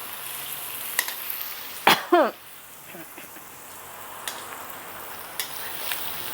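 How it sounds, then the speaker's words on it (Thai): Shrimp stir-fried over medium heat in a pan for chilli shrimp, with a few soft scraping stirs and a quiet, steady sizzle that stays low throughout. "เราจะผัดให้เขาแค่ พอเปลี่ยนสีนะคะ ไม่ต้องถึงกระสุกนะคะทุกคน"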